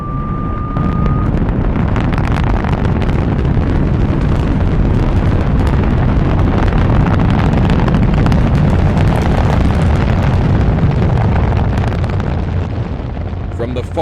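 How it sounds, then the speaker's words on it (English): Rocket blastoff effect from a radio drama, a loud continuous broadband roar like rushing fire and wind that fills the whole stretch, with a brief thin tone at the start before the rumble swells and holds steady. "Countdown for blastoff."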